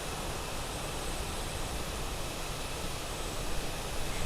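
Broadband rushing wind and external ambience in Microsoft Flight Simulator with a PMP A330 airliner, a steady, even roar with a slight swell toward the end.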